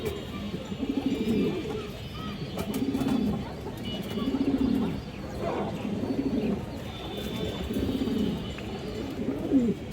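Pigeons at a seller's loft, black-tailed hens among them, coo in repeated rolling phrases that swell and fade every second or two. Faint chirps and scattered noise sit behind the cooing.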